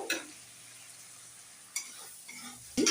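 Soft sizzle of spices and slit green chilies frying in a pan, with a couple of brief scraping stirs of a utensil against the pan, quiet and close.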